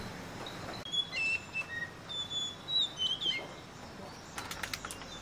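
A whiskered yuhina calls in the forests of South Sikkim with thin, high chirping whistles repeated in short phrases, close and clear, followed near the end by a brief flurry of fluttering bursts.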